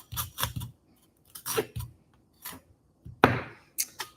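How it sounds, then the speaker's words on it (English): Fresh dill torn by hand in a home kitchen while making olive pasta, heard as a series of short crisp rips and snaps with quiet pauses between them, close and fairly soft. "So we're going to just tear some of this dill off."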